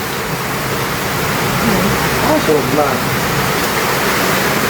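Steady cold-weather rain falls in an even, continuous hiss, loud and close, with a brief spoken remark partway through.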